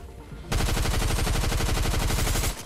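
Rapid bursts of SMG gunfire in the video game Fortnite, a loud continuous stream of shots starting abruptly and running for about two seconds before cutting off.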